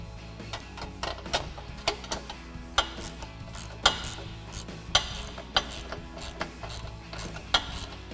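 Bolts on a front bumper of a 2018 Jeep Wrangler JL being tightened with a 19mm wrench and an 18mm socket, a steady ratcheting clicking with sharper metallic ticks at a regular pace, close up and without speech.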